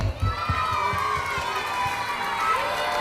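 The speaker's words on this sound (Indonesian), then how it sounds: "Kita beri tepuk tangan untuk kelas" Crowd noise at a school show as an audience cheers for a fifth-grade class performance: a busy wash of voices and shouts with low thumps, fairly close and steady throughout.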